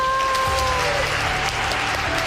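Artists clap for one another in a steady, dense patter of applause. A brief high tone rings out at the start.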